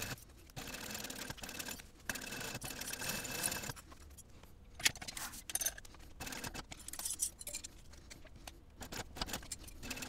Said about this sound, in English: Now baste all the way around using a 1/8 inch seam allowance.